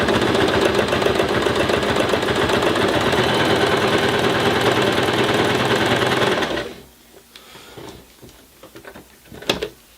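A Janome 2212 sewing machine stitching a sample line through a bulky project with the standard foot and needle, a loud, rapid, steady run for about six seconds, then stopping, followed by faint handling clicks.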